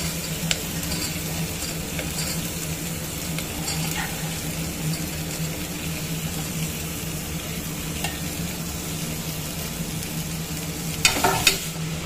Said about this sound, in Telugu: ఇప్పుడు ఆలు, అలసంద గింజలు వేసుకొని ఫ్రై చేసుకుందాం పచ్చివాసన పోయేందుకు.